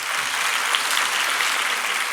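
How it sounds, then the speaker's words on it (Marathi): Audience at a Kathak dance festival applauding in a dense, steady wash of clapping that holds evenly throughout, heard from a moderate distance with no voices over it. "सगळ्यांसाठी एकदा छप्पर तोड टाळी झाली पाहिजे"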